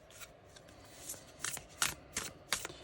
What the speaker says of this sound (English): So this is the Divine Abundance Oracle deck. Just going to pull a couple of cards for you.